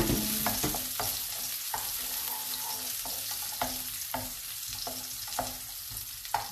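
Onion, ginger and garlic sauté in a pan for chicken bihon soup, making a steady sizzle and frying hiss. A utensil stirs and scrapes at a regular rhythm throughout, close and moderately loud, with no talking.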